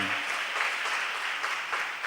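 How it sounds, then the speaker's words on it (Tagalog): A church congregation claps loudly during Tagalog worship, a dense, steady wash of applause lasting about two seconds with no pause. "malakas na pumalakpak para sa ating mahal na Panginoon"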